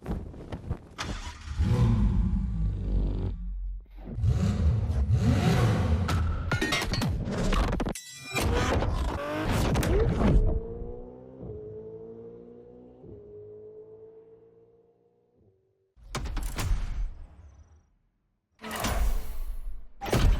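Ferrari supercar engine in The Crew Motorfest racing game, loud revving bursts with gear-change gaps and a descending tonal rev sweep, then silence before two more short roaring blasts.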